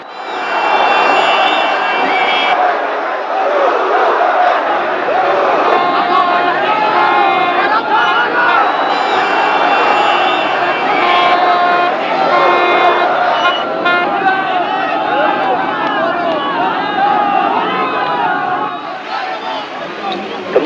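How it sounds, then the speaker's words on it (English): Dense crowds surround Khomeini's motorcade in Tehran in 1979, making a loud, continuous roar of shouting and chanting voices close by, with occasional horn toots mixed in. "The motorcade crowds were the most emotional near the University of Tehran"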